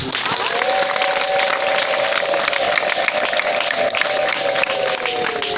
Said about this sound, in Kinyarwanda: Tuyikomere amashyi rero.